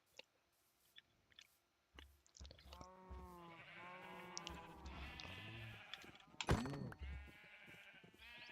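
Sheep in the Minecraft video game give several wavering bleats, one after another from close by, with soft clicks and taps between them and no talking.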